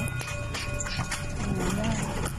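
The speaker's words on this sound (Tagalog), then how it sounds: "Pagtakatak ng kabayo" Horse hooves clip-clopping on a hard surface, a quick irregular run of knocks heard close amid loud background noise and overlapping voices.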